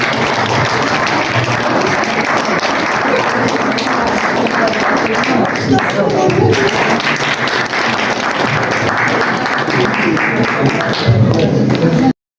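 A crowd at a Mother Language Day celebration in Istanbul applauds in a sustained, dense wash of clapping that stays loud throughout, with voices under it.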